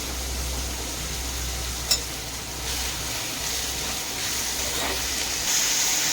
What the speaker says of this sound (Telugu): ముందుగా కట్ చేసి పెట్టుకున్న ఉల్లిపాయ పచ్చిమిర్చి వేసుకొని వేయించుకోవాలి